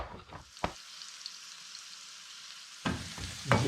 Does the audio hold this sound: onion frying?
yes